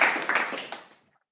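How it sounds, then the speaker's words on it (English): Webinar audience applause for a speaker, a short patter of several hands clapping that fades quickly into silence. "Let's give Pak Regan a big round of applause."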